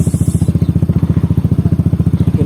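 A motorcycle fitted with an Akrapovic-style racing exhaust from Purbalingga, running with a steady, loud, pulsing low rumble and rapid regular exhaust beats throughout, close up with no talk.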